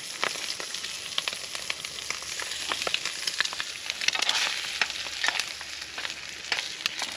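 Peppers, jalapenos, banana peppers and cheese sizzle in a skillet over a campfire outdoors, a soft steady hiss dotted with frequent sharp crackles and pops, fairly close and without talk.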